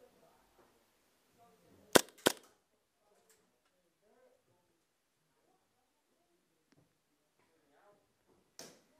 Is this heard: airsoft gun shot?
yes